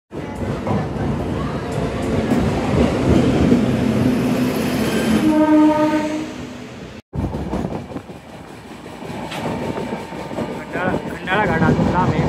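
A passenger train on the Pune to Ujjain run near Lonavala in rain rumbles along with wheel clatter, a long horn blast sounding midway, then a sudden break before the running noise resumes with rattling.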